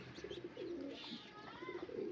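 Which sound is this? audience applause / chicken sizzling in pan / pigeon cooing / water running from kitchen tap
pigeon cooing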